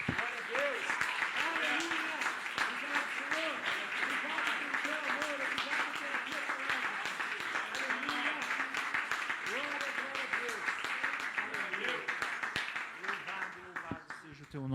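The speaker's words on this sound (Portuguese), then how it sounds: "dá uma salva de palmas para o Senhor" A church congregation claps for the Lord after a prayer, a sustained round of applause lasting throughout, with a voice speaking over it and the clapping thinning just at the end.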